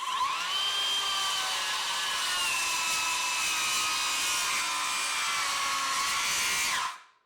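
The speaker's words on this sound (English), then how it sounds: "let's do a plunge cut in a treated 4x6. We're going to do the Skilsaw first." Skilsaw 48v worm drive circular saw plunge cutting into a treated 4x6, a loud, close, high-pitched whine that holds steady for several seconds and then cuts off abruptly.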